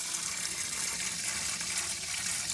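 Water from a garden hose supplied by the house runs into a storage tank fitted with a water softener and a float flow valve, giving a steady, even rushing hiss throughout with no breaks.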